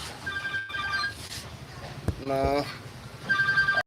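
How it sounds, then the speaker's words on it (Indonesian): A telephone rings with repeated electronic tone bursts, loud and close, sounding in short trills that start and stop, while someone briefly speaks between rings. "telepon bro."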